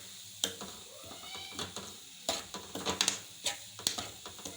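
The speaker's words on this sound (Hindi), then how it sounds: "ये देखिए अब 1 कप हम लोग इसमें मिल्क ऐड कर चुके हैं और अब माँ जी इसकी भी अच्छी तरह से भुनाई कर लेंगी।" Grated coconut with milk being roasted in a pan: soft sizzling under repeated scraping and stirring strokes, irregular and close, with no talking.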